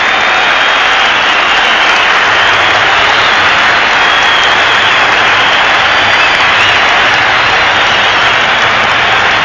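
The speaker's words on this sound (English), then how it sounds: "let's just listen to this crowd" A huge stadium crowd roars and applauds at half-time of a 1991 AFL match between the Adelaide Crows and Hawthorn, a loud, sustained wall of cheering and clapping with no break.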